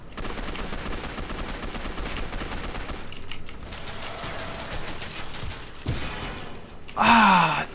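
Rapid gunfire bursts in the Gotham City Impostors shooter game, steady and loud throughout with mechanical clatter, ending in a sharper, brighter weapon blast near the end.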